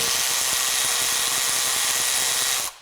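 A Milwaukee M12 FUEL high speed ratchet spins taped extensions at full speed, a steady loud high-pitched whir that holds for under three seconds and then cuts off abruptly.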